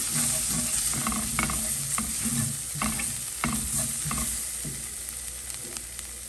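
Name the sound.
stirring pasta sauce with dried parsley in a pan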